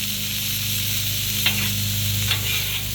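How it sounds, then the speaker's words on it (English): Hamburger meat sizzling on a Blackstone griddle for sloppy joes, a steady frying hiss with a low hum underneath and two brief scraping strokes of a spatula stirring the meat. "So that hamburger is just about all the way cooked."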